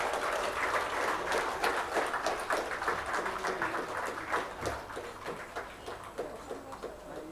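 Audience at a scientific seminar claps for guests taking their seats on stage, a steady crackle of moderate, fairly distant clapping that gradually thins and fades.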